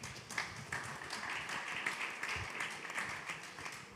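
Audience at a panel discussion during an outdoor summer party applauding with a faint, steady patter of many hands clapping for about four seconds, somewhat distant and sparse.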